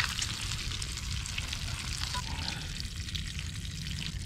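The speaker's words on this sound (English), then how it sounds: "Just stick them in the pan, cover them in grease," Brussels sprouts frying in bacon grease in a pan over a campfire, a steady, even hiss and crackle of sizzling fat throughout, fairly quiet and close, with no voices.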